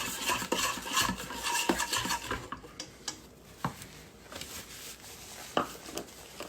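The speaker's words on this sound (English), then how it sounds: "Mix my eggs and sugar up together good." Eggs and sugar being stirred together in a bowl for a pumpkin roll, with a utensil repeatedly scraping and clinking against the sides in a steady, close, moderately loud rhythm with no talking.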